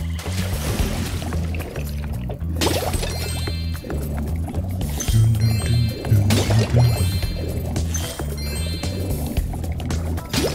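Water sound in the video game Spyro Year of the Dragon, a liquid pouring and trickling over steady game music, with low tonal background layers throughout.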